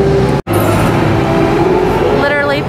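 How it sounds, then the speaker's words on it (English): A large train pulls into a theme park station, a steady loud rumble of wheels and engine filling the scene with a brief dropout, then a rising whine as it arrives. "Here comes the train."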